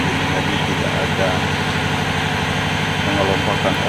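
A ship's engine runs as a steady, droning rumble with a constant low hum, unbroken for the whole stretch, with indistinct voices mixed into the background.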